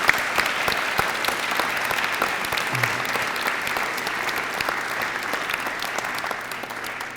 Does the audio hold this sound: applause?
yes